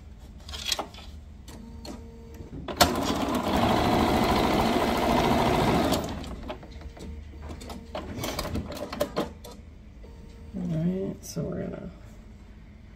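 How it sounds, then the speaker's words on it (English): A sewing machine runs one quarter-inch quilting seam in a close, steady burst of rapid stitching that lasts about three seconds. Quiet fabric handling and occasional speech are heard before and after it. "Sew your 1/4 inch."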